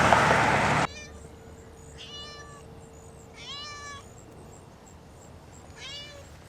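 A cat meows three times outdoors beside a road, each call clear and fairly close, with quiet gaps between them after a brief burst of noise at the start.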